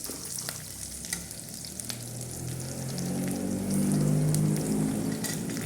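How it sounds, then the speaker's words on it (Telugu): Chopped onions fry in a pan with oil for a chickpea snack, giving a continuous close sizzle that swells louder and fuller partway through. "ఉల్లిగడ్డలు మంచిగా కొంచెం ఎర్రగా వేగనివ్వాలి"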